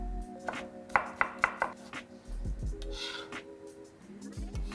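A knife slices red onion and watermelon into thin strips on a board, giving a quick burst of four crisp taps followed by a few softer cuts, close and clear with a faint background hum.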